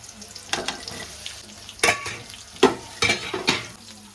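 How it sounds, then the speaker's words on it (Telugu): Thinly sliced onions frying in a pan for a village-style beans and potato curry, with an ongoing sizzle broken by several bursts of stirring and scraping. "ఇప్పుడు అదే సన్నంగా తరుక్కున్న ఆనియన్స్ వేసుకున్నాం."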